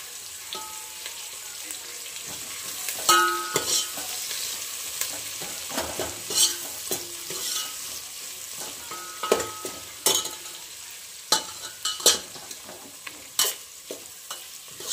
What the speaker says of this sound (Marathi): आता कांदा टाकून घेऊयात आपण ह्याच्यात. 2 कांदे टाकून घेतले, भरपूर कांदा टाकला मी ह्याच्यात.